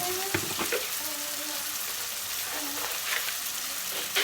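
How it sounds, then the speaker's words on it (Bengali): Spiced masala for a chital fish kalia sizzles and fries in a pan, with sugar just added, and a spoon scrapes and stirs it in a few quick bursts over the steady crackle, close and fairly quiet. "মশলাটা কিন্তু বারবার করে ভালো করে কষাতে হবে"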